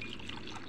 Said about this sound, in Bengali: চায়ের কাপে ঢেলে নিলাম।